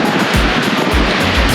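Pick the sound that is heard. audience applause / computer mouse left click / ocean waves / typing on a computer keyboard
ocean waves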